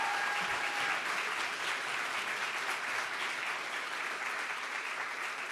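Audience applause for the independent jury members at a Berlinale award ceremony: sustained, evenly dense clapping filling the room, fairly soft in level and steady throughout.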